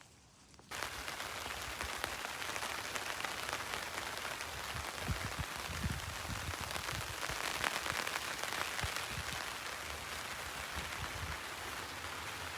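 Light rain falling at a campsite, a continuous soft patter of drops that begins after a brief quiet moment and stays steady throughout, close and even, with no talking.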